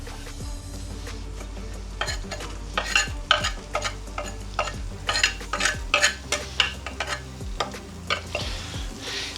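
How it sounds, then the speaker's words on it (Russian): Onions sizzle in butter in a pan while a utensil stirs and scrapes repeatedly, a steady frying hiss broken by rhythmic clinks. "Лук мы немножко обжарим"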